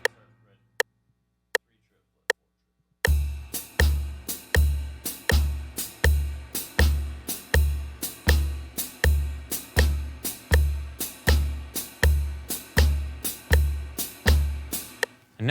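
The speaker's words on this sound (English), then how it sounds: "Let's go ahead and hear that with the metronome." A blues shuffle drum groove plays against a metronome: a few sparse clicks, then a steady, loud, evenly repeating pattern of hits with a strong low thump, close and without any voices.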